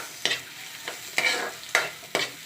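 Sinangag (Filipino fried rice) cooks in a pan over a soft sizzle, with five quick scraping stir strokes spaced about half a second apart.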